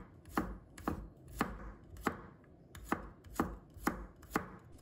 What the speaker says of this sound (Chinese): 接下来我们再准备一把大蒜，把它切成片